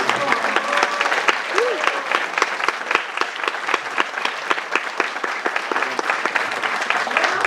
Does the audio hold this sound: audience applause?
yes